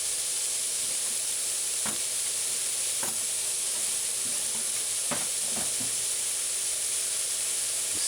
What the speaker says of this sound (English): Once you do that, you just allow it to fry.